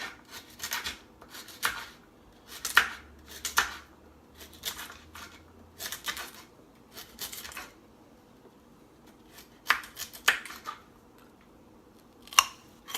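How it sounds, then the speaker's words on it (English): A kitchen knife chops carrots on a board in short clusters of quick, crisp cuts separated by pauses, fairly quiet and close, with no talking. "carrots are the next slowest cookers, so we're just going to chop them up."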